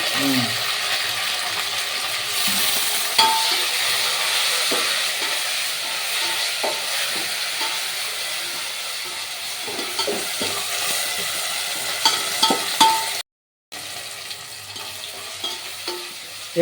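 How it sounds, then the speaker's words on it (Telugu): Tomatoes with mint and coriander sizzle in a pan for egg biryani, a steady close frying hiss with occasional stirring scrapes and clinks and a brief cut near the end. "మరి టమాటా బాగా మెత్తగేంత వరకు మగ్గించుకోవాలి."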